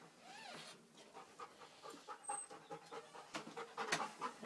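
A dog pants close by in quick, rhythmic breaths, with a short whine at the start, in a quiet room.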